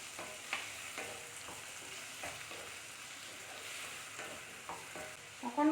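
Spices and tomatoes stirred in a pan over high heat, a soft steady sizzle broken by repeated spatula scrapes at irregular intervals, close and quiet with no talking.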